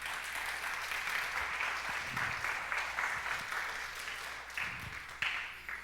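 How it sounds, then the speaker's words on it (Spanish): A church congregation at a Sunday service applauds steadily for several seconds, a dense, even wash of clapping heard at moderate distance. "Dale un aplauso al Señor si se lo puede dar."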